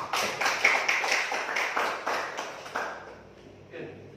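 A classroom audience claps in a loose, steady rhythm of sharp taps for about three seconds, fairly close, then fades to quiet.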